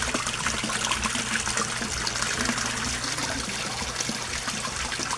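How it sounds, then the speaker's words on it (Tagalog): An Aquaspeed submersible pump sends water splashing and trickling into a koi pond, a constant close-up rush with a faint low hum beneath it and no talking. "Aquaspeed submersible pump or Aquaspeed water pump"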